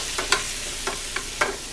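Fresh chopped thyme and diced Creole tomatoes hiss in a hot pan, with a few quick scraping stirs and light clicks over a short, close sizzle and no voices.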